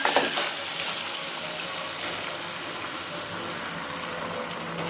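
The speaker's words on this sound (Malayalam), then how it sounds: "ഇതിലേക്ക് കുറച്ച് വെള്ളം ഒഴിച്ചു കൊടുക്കാം." Water poured into a hot pan of chicken chilli with spring onion, a brief splash and hiss at the start that settles into a steady, close sizzle with no talk.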